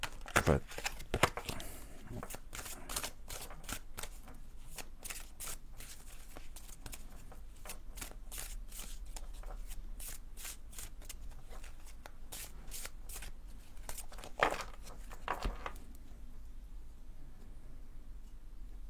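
Tarot cards are shuffled and cut by hand, up close and fairly soft, with rapid riffling rustles and flicks in repeated bursts that fade to quiet near the end.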